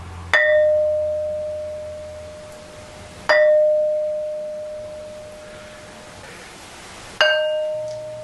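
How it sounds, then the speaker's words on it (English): A struck object at ancient stone ruins rings like a bell three times, each sharp metallic strike followed by a single clear tone that decays slowly over several seconds. "this thing really rings like a bell, and it reverberates for quite a long time."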